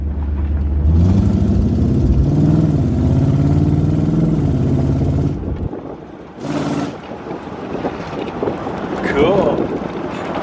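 A 1978 Jeep CJ7 4x4 with its factory V8 rumbles loudly while driving in Arizona, its droning engine note rising and falling, dipping briefly before surging again.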